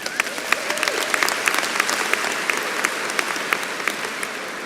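Sustained applause from a ceremony audience, dense and steady clapping throughout with a few sharper claps standing out, moderately loud and without voices.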